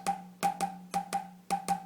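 Soft, uneven drum strokes are played with the stick gripped too tight: a handful of faint, short taps in irregular pairs, quiet and close, with a low steady hum underneath.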